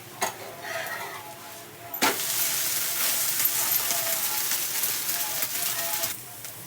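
Bhagar (barnyard millet) dosa frying on a hot pan, with a steady loud sizzle that jumps up after a brief clatter as the dosa is flipped, then continues evenly before easing off at the end.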